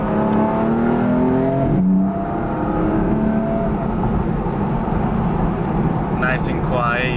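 A BMW M4 F8X in efficient exhaust mode, heard from inside the cabin: a low, steady engine hum and drone at cruise, with a voice talking over it.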